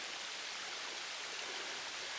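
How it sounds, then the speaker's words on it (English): Water runs beneath an old failed or filled-in culvert on Mine Brook in Webster and Douglas, Massachusetts, a soft, steady, even rush with no breaks. "The water streaming below."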